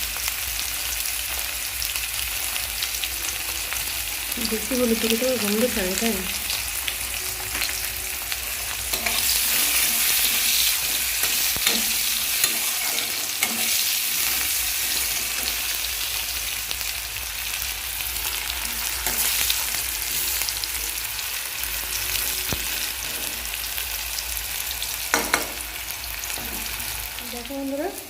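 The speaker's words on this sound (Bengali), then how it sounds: "এই যে এখানে করলাটাও ভাজা হয়ে গেছে" Bitter gourd pieces fry in hot oil in a pan with turmeric added, a steady close sizzle with intermittent stirring scrapes, while someone speaks briefly over the cooking.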